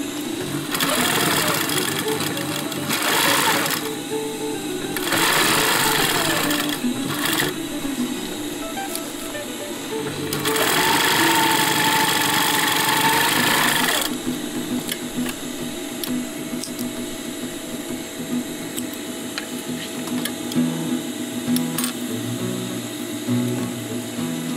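A sewing machine stitches a fabric chest pouch pocket, folding its top edge over itself, in several loud, steady whirring runs separated by pauses, close up and without talk.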